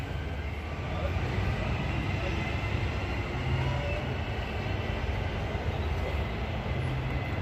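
An EMU electric train on the Joondalup line at Leederville station, giving a steady, loud, continuous rumble with rail noise as it runs close by.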